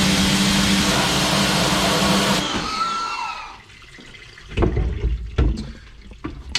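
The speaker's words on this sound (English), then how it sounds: "Might do a quick little rinse on this side." Water spray rinsing a silkscreen printing screen, a loud steady hiss that cuts off abruptly, followed by dripping and a few knocks.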